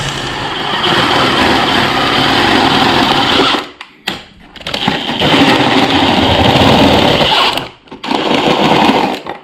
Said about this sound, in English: it's basically just going to drill itself through